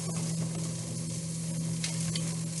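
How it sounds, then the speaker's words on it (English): Vegetables sizzle in a buttered pan with a constant close crackling hiss over a low steady hum, and nobody speaks. "You can hear it sizzling."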